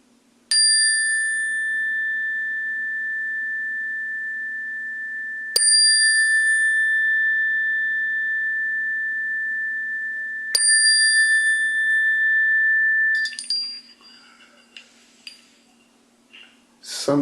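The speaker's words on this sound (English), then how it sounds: "I love the sound of chimes and gongs." A chime is struck three times at roughly five-second intervals, and each bright metallic tone rings out and slowly decays. Softer clinks and rustles follow, and a low steady hum sits underneath.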